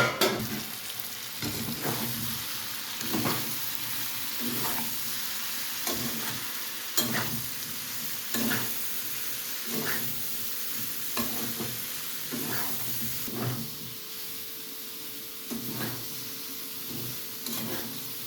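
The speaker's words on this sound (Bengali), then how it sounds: "মশলাটা কষানো, সয়াবিন আলু সব একবারে দিয়ে" Soybean chunks and potatoes stir-fried in a spice masala: a steady sizzle runs throughout, broken by regular scraping strokes of a spoon every second or so, close and clear, with no talking.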